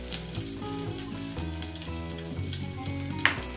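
Chillies, garlic and curry leaves fry in a pan for rasam, a soft sizzle sitting under loud tonal music that dominates throughout.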